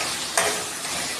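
Chicken cooking in oil with ginger and garlic for a chicken gravy curry, giving a steady close sizzle over the whole moment with one brief brighter burst of crackle partway through.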